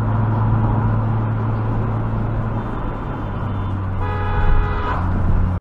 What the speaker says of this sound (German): habt ihr das Hupen des weißen Mercedes auch gehört?